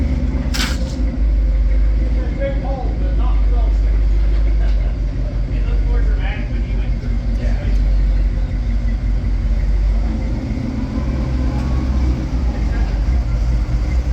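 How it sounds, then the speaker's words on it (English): A Chevrolet Suburban on 42-inch tires crawls over a rocky trail obstacle at a Vernal rock rally. A loud, close engine rumble runs continuously, swelling and easing slightly as it works through the climb. "Keith's beast of a Suburban on 42-inch tires made quick work of this one,"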